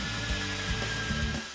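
A RAMSET core drill with a 2000 watt, three-gear motor runs steadily and loudly, a continuous motor whine with a grinding drilling tone that holds level throughout and eases slightly at the very end.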